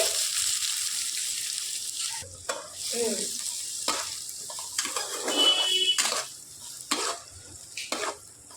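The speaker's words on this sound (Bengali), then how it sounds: "দুটো মিডিয়াম সাইজের পেঁয়াজ ছোট ছোট টুকরো করে কেটে রেখেছিলাম দিয়ে দিচ্ছি" Chopped medium onions hitting hot oil with cumin and mustard seeds in a pan, a steady bright sizzle broken by repeated stirring scrapes, close and without talk.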